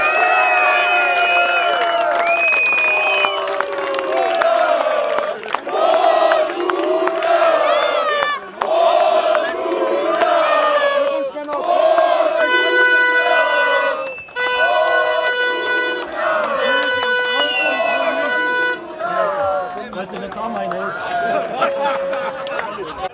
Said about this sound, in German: Jetzt kannte der Jubel endgültig keine Grenzen mehr.